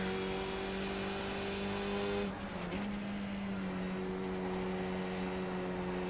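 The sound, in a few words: car engine in a racing video game at Tsukuba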